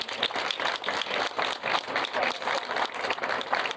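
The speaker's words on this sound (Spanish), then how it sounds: "Les pido un aplauso para Martín" A seated audience at a talk applauds a speaker, with steady, dense clapping throughout, moderately loud and with no talk over it.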